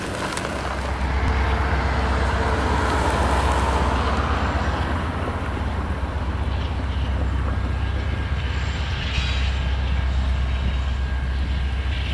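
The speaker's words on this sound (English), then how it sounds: "another Ennis freight train was passing the Bellevue Tower near Kepler Rail Park" Loud, steady rumble of a heavy freight train rolling past nearby at Bellevue Tower near Kepler Rail Park, deep low drone with a continuous mechanical roar throughout.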